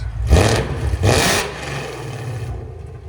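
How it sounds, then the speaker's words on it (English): A 2016 Ford Mustang GT 5.0L V8 with headers and Valvetronic Designs exhaust barks through two sharp, loud throttle blips, then settles into a rumbling idle, close by with no talking. "That's how a Mustang should sound"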